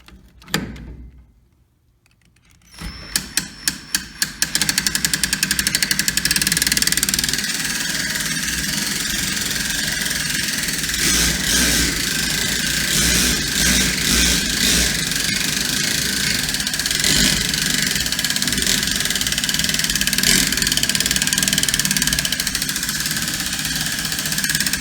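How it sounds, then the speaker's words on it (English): An engine is cranked over with a Ryobi cordless drill, a quick burst of rapid whirring pulses that catches into a steady running engine drone, continuing loud and close for about twenty seconds. "Now you knew I wasn't really going to crank it all the way up by hand, so I got the trusty Ryobi here."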